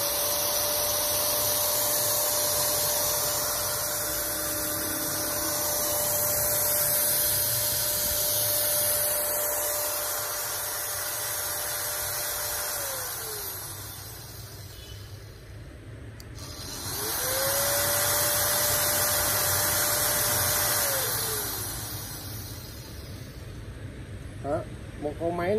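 A MiTaChi variable-speed 6 mm die grinder runs with a steady high whine, winds down, then spins back up to speed, accompanied by broadband hiss and occasional talking nearby.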